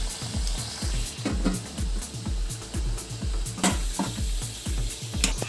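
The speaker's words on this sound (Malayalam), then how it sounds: "ഇനി ബാക്കി നമുക്ക് എല്ലാതും ഇതുപോലെ മുക്കി പൊരിച്ചെടുക്കാം." Wheat flour vada fry in hot oil with a continuous sizzle, broken by steady, rhythmic clinks and taps of a utensil against the pan, close and fairly quiet.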